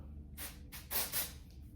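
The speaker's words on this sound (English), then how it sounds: "I have a small Oribe Gold Lust dry shampoo" Oribe Gold Lust dry shampoo sprayed into hair in short close hissing bursts, about four quick sprays in a quiet room with no talking.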